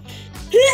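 A single short sneeze in the middle of a Minecraft game chat, a quick sharp burst close to the microphone, with voices around it.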